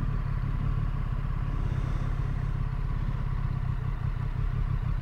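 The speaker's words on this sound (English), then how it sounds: "I'm gonna let this bus pass." A bus passes on a road while a motorcycle idles close by, its steady low engine rumble and clatter continuous and loud throughout, the passing vehicle's sound blending into the engine noise.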